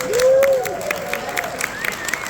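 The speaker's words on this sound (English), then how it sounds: "Round of applause for that one." Audience at a Rotary International talk applauding briefly; scattered claps crackle under a lingering voice and a few shouts, fairly light and short.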